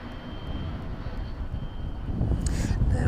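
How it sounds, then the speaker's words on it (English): Boeing 777 airliner taxiing onto the stand at East Midlands Airport, a steady jet engine rumble and whine that swells slightly louder toward the end, heard at moderate distance. "There you go, making its way in. 777 in from Delhi this evening."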